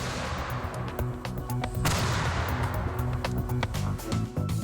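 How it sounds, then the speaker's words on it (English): A cannon fires a black powder charge with loud, booming blasts. Sharp cracks and rumbling echoes crowd together over a few seconds, close and heavy. "on its own, it still makes firing a cannon a real blast."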